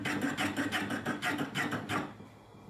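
Rhythmic series of about seven scraping strokes as a hand plane or wide chisel shaves the sole of a Japanese kanna wooden plane, close and steady, then fading to quiet.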